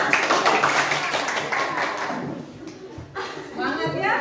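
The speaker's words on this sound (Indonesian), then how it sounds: "Oke, tepuk tangan." Schoolchildren in a classroom clap their hands. The clapping is fairly loud at first, then fades, and a voice and a teacher's voice come in near the end.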